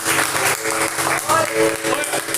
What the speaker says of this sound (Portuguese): Pode aplaudi-lo, pode adorá-lo.